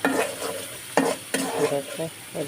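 Spices frying and being stirred in a home kitchen pan, a crackling sizzle broken by several sharp scraping stirs and clanks, close and fairly loud, with no talk.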